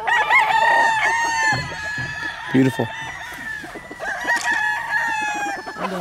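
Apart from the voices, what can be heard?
game chickens, rooster crowing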